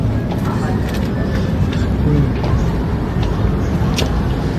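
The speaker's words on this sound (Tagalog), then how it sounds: "Traffic yan." Steady road traffic outside a house, a dense low rumble of passing vehicles holding constant the whole time, with voices talking over it.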